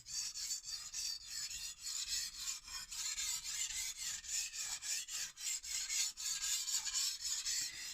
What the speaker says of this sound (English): I do 5 passes on one side, and then I swap to the other side till I get burr on the knife